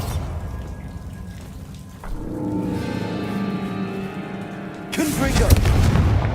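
A Bombarda spell explosion in Hogwarts Legacy: a low rumbling hum builds, then a loud, crackling blast breaks out near the end over steady pattering background noise, with speech present.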